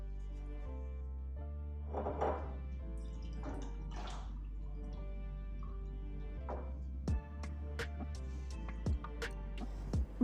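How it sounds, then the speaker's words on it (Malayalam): Water poured over potted garden plants splashes and trickles in bursts, with soft drips and a few sharp knocks and clicks toward the end, fairly close by. "ചെടികൾക്കൊക്കെ ഒന്ന് വെള്ളം ഒഴിച്ച് കൊടുക്കുകയാണ്"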